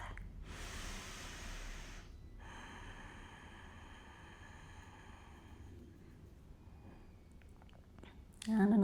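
A long, deep breath during a floor-based yoga session, a steady airy rush of inhaling and exhaling heard up close under a faint background hiss.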